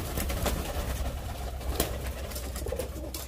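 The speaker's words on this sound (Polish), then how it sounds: "Wszystkie gołębie wypuszcza się naraz, one muszą równo wystartować." Racing pigeons coo softly in a breeder's loft, low murmuring calls blending into a steady background hum, with a few faint rustles.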